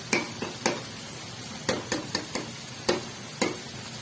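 Chicken biryani masala with tomatoes being stir-fried in a pot, heard as a spoon scraping and knocking against the metal in irregular clustered strokes, with faint sizzling in between.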